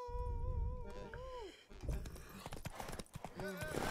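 Hooves clip-clop in a quick irregular rhythm close by in the video game The Witcher 3: Wild Hunt, with a horse's whinny near the start and a voice speaking briefly under the clatter.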